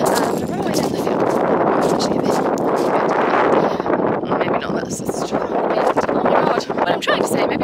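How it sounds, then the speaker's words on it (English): Strong wind gusts across an outdoor yard while clumpy crocs crunch on gravel with irregular footsteps, all under steady close talking. "Hopefully you can hear me above the wind and my clumpy crocs on the gravel."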